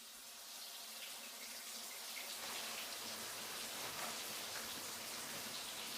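Shower water running steadily indoors, a constant soft hiss of spray with no voices.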